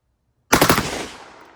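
An M60-mounted 12 gauge shotgun fires a rapid close burst of about four or five loud blasts, the string cut short by magazine feeding trouble, with a ringing decay trailing off afterward.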